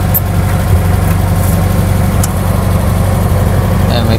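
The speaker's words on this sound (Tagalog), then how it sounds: "Ayan, may truck lang." A truck idles nearby with a deep, steady engine rumble that stays constant throughout, loud and continuous on a roadside, with faint ambient noise above it.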